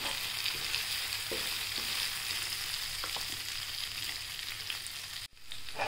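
Sabudana khichdi with crushed peanuts being stirred in a frying pan, giving a steady close sizzle with soft scraping strokes throughout and a brief dip near the end.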